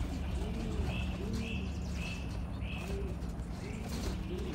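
Racing pigeons, Hofkin and Rocky Ridge white birds, coo softly in a loft, repeated low rolling calls with faint chirps over a steady background hiss.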